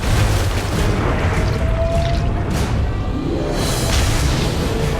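Film visual effects of explosions and splashing water: deep rumbling booms roll continuously, loud and heavy, with whooshing bursts and a wash of churning noise.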